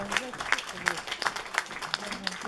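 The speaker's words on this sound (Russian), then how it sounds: "Аплодисменты." Concert audience at a performance by a spiritual song ensemble claps rhythmically in sharp, fairly close bursts while voices talk over the applause.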